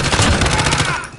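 Loud rapid automatic gunfire in the multiplayer shooter Modern Warfare played in PSVR, a dense burst of shots that fades out near the end, with no talk.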